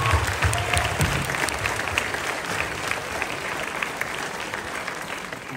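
A crowd bursts into loud, dense applause that is strongest at the start and holds steady before easing slightly near the end, close and full, with no speech over it.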